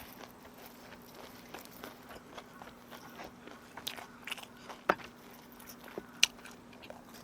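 Crisp bites and crunches into cheese-topped fried chicken eaten outdoors in a yard, with steady soft chewing and a few sharper, louder crunches standing out over a low background hum.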